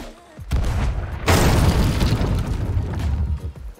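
Cannonball slamming into a ship's anchor in Sea of Thieves: two heavy booming impacts, the second louder and sustained, with a rumbling, crunching tail that lingers for a couple of seconds.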